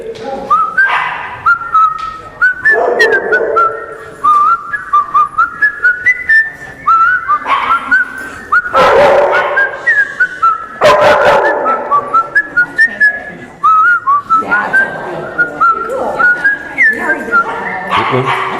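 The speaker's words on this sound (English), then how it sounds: "I'll whistle in my microphone" A person whistles a tune into a microphone: a bright, close, jaunty melody of short, rhythmic notes that runs steadily the whole way through with brief breaths between phrases.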